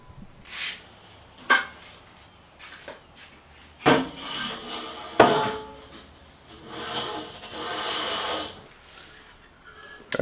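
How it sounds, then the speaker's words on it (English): A rusted Weber One Touch kettle grill is handled and flipped upside down onto a table, with several hollow metallic clanks and thuds, scraping rubs and a longer rattling shuffle, close and without talking. "So I'm going to flip it upside down onto a table."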